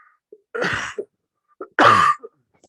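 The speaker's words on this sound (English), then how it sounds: "So sorry about this cough." Two harsh coughs about a second apart, close and fairly loud, each with a short rasping burst, separated by quiet.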